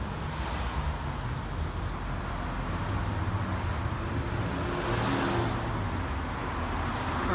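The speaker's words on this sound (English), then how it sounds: "Cars are moving at speed" Cars drive through a rush-hour intersection on Rowena, a continuous roar of passing traffic with engine rumble and tire noise that swells as vehicles go by at speed.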